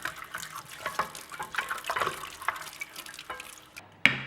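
Running water rinsing a freshly etched copper circuit board in a home setup, heard as a close, irregular patter of splashes and drips with a sharper splash near the end.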